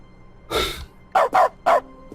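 A dog barks in dog mode of the video game The Stanley Parable Ultra Deluxe: one longer bark, then three sharp, loud barks in quick succession, close and clear with no talking.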